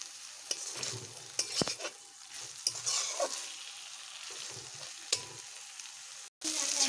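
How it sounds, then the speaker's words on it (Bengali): Chhana (cottage cheese) is fried and sautéed with okra in a pan, a soft sizzle broken by repeated scraping stirs and light utensil knocks, with a brief cut near the end. "ছানাগুলোকেও ভাজতে হবে যাতে আমার সবগুলোই ভাজা হয়ে যায়।"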